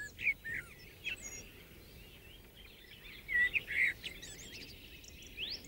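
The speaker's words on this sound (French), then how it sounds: "Voici le chant d'un merle." Blackbird singing outdoors, clear fluting phrases in short bursts separated by pauses, fairly close and alone without talk.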